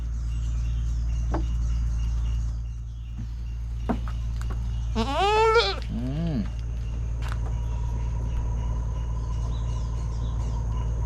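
A goat on a farm gives one wavering bleat midway, close by, over a steady low engine-like hum with a few faint clicks.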